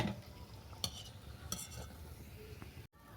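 Raw banana pakoras frying in oil, a soft steady sizzle broken by a few sharp clinks and scrapes of a slotted spoon stirring in the pan.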